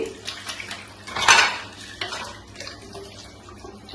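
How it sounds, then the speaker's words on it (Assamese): Tea cups and dishes being washed, with ceramic clinks and cutlery rattles under running water, one louder clatter midway and softer knocks throughout. "চাহৰ বাচন দুখনমান বাচন ধুই লওঁ"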